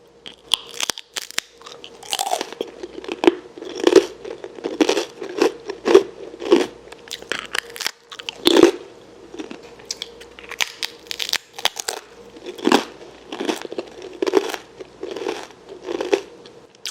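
Crisp, close-up crunching and chewing of an organic whole-grain snack, with repeated bites and crackles in an irregular rhythm against a quiet background.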